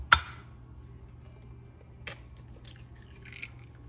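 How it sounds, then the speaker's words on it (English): Two eggs are cracked into a bowl. A sharp single crack opens the passage, followed by a quieter crack and a few faint taps and drips in an otherwise quiet kitchen. "Now in this bowl here, we're going to crack 2 eggs"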